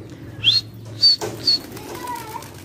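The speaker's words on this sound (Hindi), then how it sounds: "थोड़े कबूतर उठें, जो उठने हैं उठेंगे, जो नहीं उठते तो नहीं उठे।" Several short bursts of flapping wings and chirps as pigeons take flight, with a low steady hum beneath and a faint whistle trailing off afterward.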